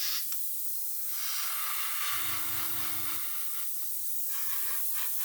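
An airbrush sprays paint onto a 1/8-scale Pocher Lamborghini Aventador model at low pressure, giving a steady, close, continuous hiss that runs through the whole stretch with a brief low hum partway through.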